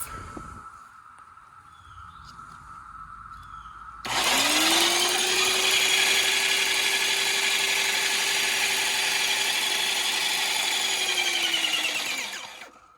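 A cheap Harbor Freight airless paint sprayer set up with a one-gallon hose kicks on after a low hum and runs steadily while priming, a loud, close, buzzy whine that holds evenly for about eight seconds and then stops.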